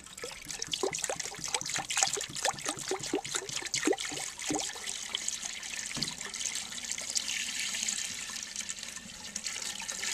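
Water filling a toilet tank, a steady close rushing trickle that runs throughout, with a few gurgling splashes early on and no voices.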